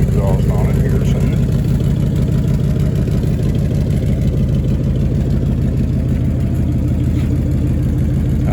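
A 1993 Dodge D150 long-bed pickup's 5.2L V8 idles steadily and loudly up close with a low, even rumble throughout, fitted with a new crankshaft sensor and awaiting a fresh exhaust.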